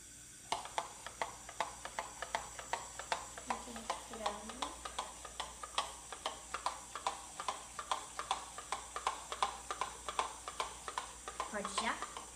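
Food being stirred in a pan, with a steady, rhythmic series of close scraping strokes over a faint sizzle, while a voice is heard briefly in the background.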